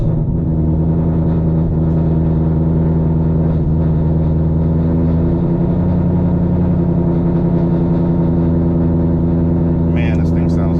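A 2024 Mustang GT with a Whipple supercharger rumbles loudly and close, a deep lopey idle with steady pulsing throb and slight rev changes, and a voice is briefly heard near the end.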